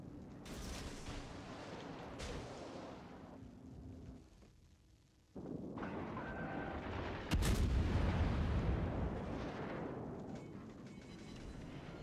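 Heavy naval guns of the Prinz Eugen cruiser boom in World of Warships, with several loud, deep blasts rolling into long rumbling tails, one brief lull midway and then another powerful salvo.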